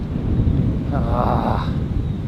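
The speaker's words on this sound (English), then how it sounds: "can you feel the wind?" Strong wind roars steadily near a jetty below snow-covered mountains, a constant low buffeting rumble across the microphone, with a brief voice partway through.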